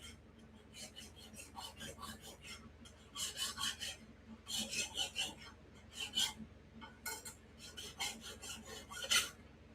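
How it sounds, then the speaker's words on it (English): Hand file rasping on a metal part in a shop, working on a 1967 Triumph or 1974 Schwinn, coming in irregular bursts of scraping strokes, some louder and harsher, over a steady low background hum. "I'm going to file a little bit more"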